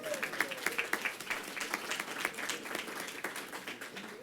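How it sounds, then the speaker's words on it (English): An audience at a wine shop grand opening press conference applauds, steady moderately distant clapping from a small crowd that tapers off gradually. "Please give yourselves a round of applause for coming out this morning."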